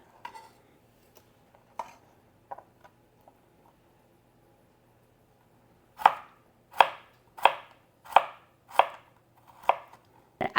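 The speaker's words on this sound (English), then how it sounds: "So I'm going to cut it this way because then that way each slice has a little bit of the red on the end." A knife slices food on a cutting board for a Greek feast: a few faint scattered taps, then a run of eight loud, evenly paced chops close by, with no voices.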